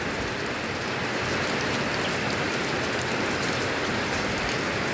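Steady, heavy rainfall: a dense, continuous hiss of drops hitting surfaces that stays loud and even throughout, with no voices.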